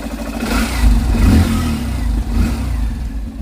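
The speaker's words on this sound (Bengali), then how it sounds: "দেখেন ইঞ্জিনের সাউন্ড" A 2024 Yamaha FZS V3 BS6 motorcycle in original condition with 13,419 km on it, its engine idling loud and close with a few rising revs.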